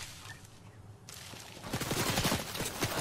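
Sniper and other gunfire in the video game Fortnite: a quiet stretch, then a burst of rapid gunshots with fast repeated cracks that grow louder toward the end.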